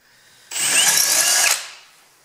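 A Milwaukee M18 ONEDD cordless drill spins up and drills for about a second, a loud, bright whine with shifting pitch, then winds down into quiet.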